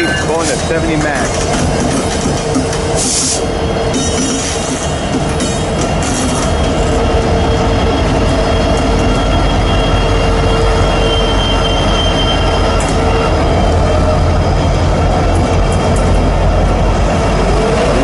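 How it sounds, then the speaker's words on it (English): A long rumbling coal train rolls steadily past close by into Hobson Yard in Lincoln, Nebraska, wheels squealing and clattering continuously at high volume for the whole stretch. "Coal heading west into the yard. It's gonna be a big train."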